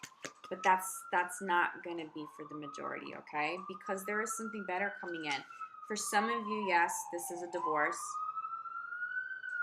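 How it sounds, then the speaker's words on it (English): A police siren wails steadily in the New York background, a long rising and falling tone running beneath continuous close talking. "Please excuse the sirens in the background."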